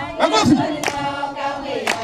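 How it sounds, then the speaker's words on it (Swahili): A church congregation in Kitui County claps hands along to a song, with a few sharp, spaced claps standing out under steady, continuous singing. "Bende makofi"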